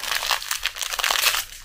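A tea packet being crinkled and handled up close, a dense stream of papery crackling and rustling with uneven bursts, steady and fairly loud with no voices.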